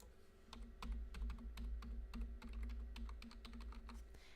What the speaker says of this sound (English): She sits down at her desk and types away.